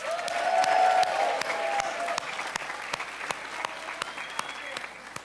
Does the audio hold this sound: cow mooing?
no